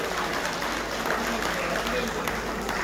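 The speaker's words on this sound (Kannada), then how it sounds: "ದೊಡ್ಡ ಚಪ್ಪಾಳೆ ಅವರಿಗೆ" A crowd at a community day gathering in Dubai applauds a chairman being welcomed, a steady wash of clapping filling the clip at even volume, with a voice faintly mixed underneath.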